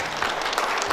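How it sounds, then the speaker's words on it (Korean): A breakfast lecture audience gives a short burst of steady clapping for the superintendent of education, moderately loud and even throughout. "다시 한번 교육감님께 큰 박수 부탁드리겠습니다"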